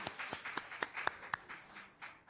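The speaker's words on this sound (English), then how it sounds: "A round of applause for Mayor Harrell." Scattered clapping for the mayor of Seattle at an economic summit, a thin run of about a dozen distinct claps from a few hands, quiet and irregular, fading out toward the end.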